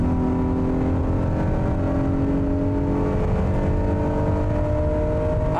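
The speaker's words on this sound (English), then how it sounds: "the engine's working pretty hard" A 2021 Honda Odyssey Elite minivan engine strains under hard acceleration in sport mode, a steady loud drone with rising harmonic whine, heard from inside the cabin with no talking.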